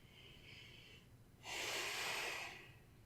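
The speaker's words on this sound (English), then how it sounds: "Maybe take some exhales out of your mouth." A long, forceful exhale out of the mouth during a beginner yoga session, a breathy rush lasting about a second after a softer breath, close and alone without talk.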